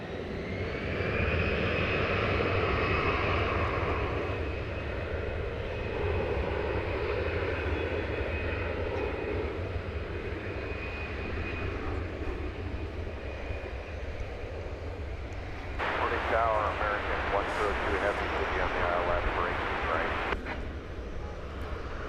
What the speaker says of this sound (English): So the Delta flight is now just getting ready to roll.